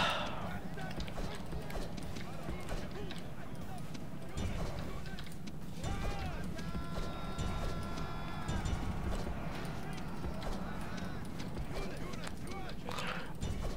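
Hoofbeats of horse archers charging as light cavalry in a Rome: Total War battle, a steady galloping clatter running through the whole stretch amid dense battle noise, with a voice faintly present.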